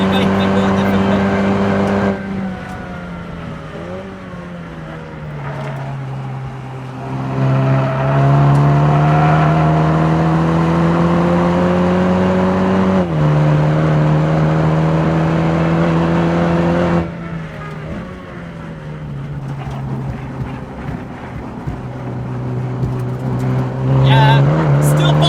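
Toyota Supra at full throttle on the Nurburgring, a loud close engine drone rising and holding through long pulls, with drops in pitch at gear changes and under braking, a voice speaking over it.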